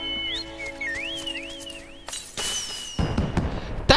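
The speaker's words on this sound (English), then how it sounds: "Oh, it's a firework." A bombard bloom firework goes off in Final Fantasy XIV during the Moonfire Faire event: rising whistles and a bright burst, then crackling sparkle that grows louder toward the end, over soft game music.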